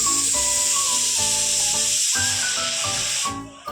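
A small pressure cooker packed with potatoes vents steam in a loud, continuous hiss close by, with a tonal whistle-like layer over it, before cutting off abruptly near the end.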